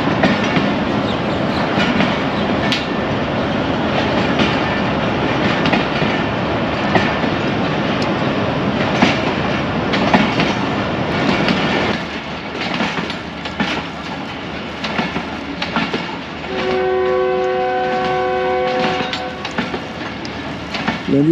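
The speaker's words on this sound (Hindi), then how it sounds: "ट्रेन 13 का डिपार्चर हॉर्न भी हो गया, उसी ट्रेन में निकल पड़ी 2 मिनट रुकने के बाद।" Passenger train on the Peshawar to Lahore route pulls out of Gujar Khan station after a two-minute stop, with continuous rumbling and rhythmic wheel clatter, then a steady tonal horn blast near the end.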